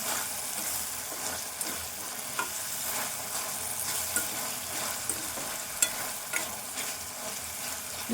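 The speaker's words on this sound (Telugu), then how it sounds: "ఇవన్నీ కూడా ఈ పచ్చి వాసన పోయేదాకా వేగాలి" Onion leaves, ginger and garlic frying and being stirred in a pan for an egg fry, giving a steady close sizzle with scattered scraping clicks of the spoon throughout, no voices.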